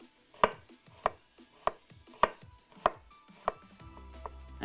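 A knife chops food into thin widthways slices on a board, striking in about seven sharp, evenly spaced cuts close up, with no other sound around them.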